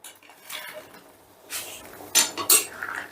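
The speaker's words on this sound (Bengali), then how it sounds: "এই দেখো, এবারে আমি দিয়ে দেব ভেজে রাখা বড়াগুলো।" Metal spoon and pan clatter as fried egg fritters go into a simmering potato curry, several distinct clinks and scrapes among quiet stretches, no voices.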